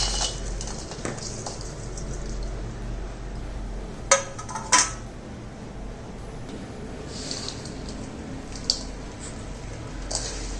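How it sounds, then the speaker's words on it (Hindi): Soft scraping and shuffling as ground dry fruits and nuts are stirred together in a bowl, with a few sharp clinks of a spoon against the bowl midway, quiet and close. "तो अब मैं इसको सबको एक साथ डाल के मिला दूँगी।"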